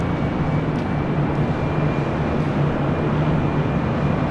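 A jet airliner, a Boeing 737-800, roars steadily on arrival at Los Angeles International Airport, a loud, continuous broadband rumble with no voices over it.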